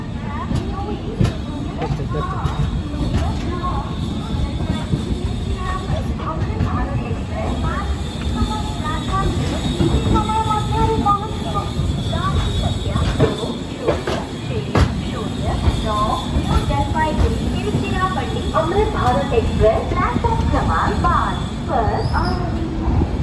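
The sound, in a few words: train entering Bhubaneswar Junction station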